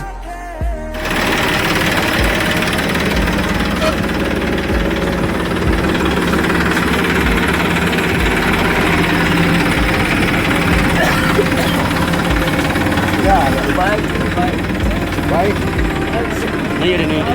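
A loud engine chugs steadily and close by, a rough continuous mechanical rumble with rapid knocking pulses that continues throughout after a brief quiet start.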